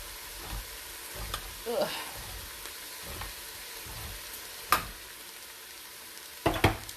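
Chili sautés in a multicooker on its saute setting, giving a soft, low sizzle with intermittent scraping and stirring knocks, a few sharper clatters near the end, and one brief spoken exclamation.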